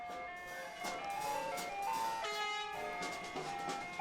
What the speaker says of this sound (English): All right, we got the ice cream truck, D&M Goods.